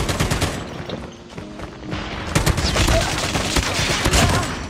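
Assault rifle gunfire in a video game: dense overlapping volleys of rapid shots, loud and continuous, growing heavier toward the end with no talk over it.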